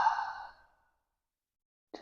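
A single long, soft exhale sighs out during guided breathing practice, fading over about three quarters of a second into silence, close and alone with no talking.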